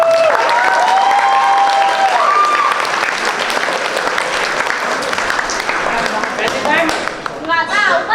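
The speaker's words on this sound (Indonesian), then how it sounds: "Beri tepuk tangan sekali lagi untuk teater." A theater audience gives loud, sustained applause and some cheering after a stage performance. Whistles and shouted voices rise over the continuous clapping, and the clapping thins out near the end.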